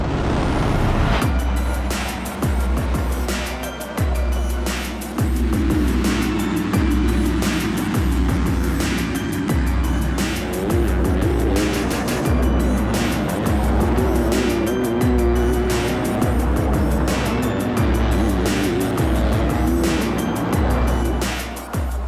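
Motocross bikes racing in the MX2 class at the Monster Energy MXGP of France, a loud, sustained engine roar with repeated rising and falling passes and no speech.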